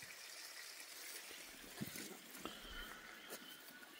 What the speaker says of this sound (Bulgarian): Къде се точи водата.